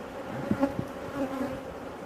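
Honey bees from a very large colony buzz during a hive inspection, a close, steady humming drone with small shifts in pitch as individual bees pass, with no talk.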